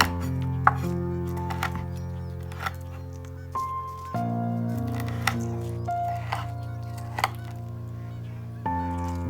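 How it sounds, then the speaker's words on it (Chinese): A knife chops garlic and slices dried chili peppers on a board, giving steady, close thuds at an even pace while soft background music plays throughout. "大蒜切碎， 每个干辣椒斜着切成几段"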